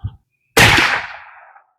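A single loud rifle shot from a Savage 110 Trail Hunter chambered in .400 Legend cracks sharply nearby, then decays in a short echoing tail outdoors, with no voices.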